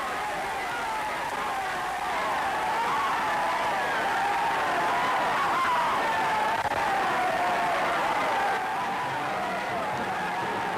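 Crowd applause and cheering in the streets of Belo Horizonte, Minas Gerais, greeting the president riding in an open car, a steady dense roar of clapping that runs the whole time.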